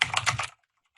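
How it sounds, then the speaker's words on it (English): Rapid keystrokes on a computer keyboard while typing a name, a dense burst of clicks for about half a second that then stops abruptly into near silence. "Type in your name,"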